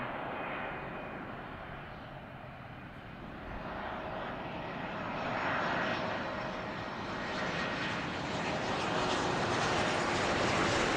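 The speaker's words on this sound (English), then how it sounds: "next plane landing." A steady, loud aircraft engine roar that swells slightly toward the end, like a plane passing close on its landing approach at Zurich Airport, with no voices.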